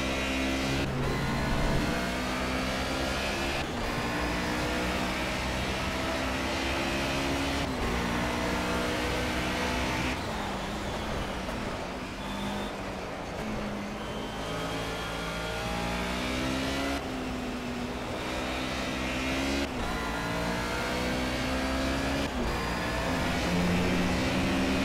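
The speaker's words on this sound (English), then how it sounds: "Bit too much wheel spin there," A Mercedes 190E race car in Project CARS at Brno in the rain, its engine revving hard under wheel spin with a continuous loud drone and repeated rising gear pulls.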